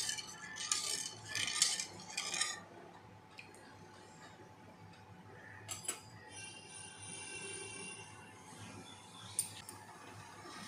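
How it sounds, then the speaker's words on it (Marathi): Salt being stirred into water in a cooking pot, a few quick metallic spoon scrapes and clinks up front, then quieter swirling water and an occasional tap against the pot. "मीठ टाकून चांगलं हलवून घेऊया आपण"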